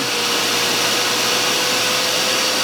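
A replacement air blower for a Gecko spa control system runs with a constant loud, close whoosh and hum. It is steady and unbroken throughout, with no talking.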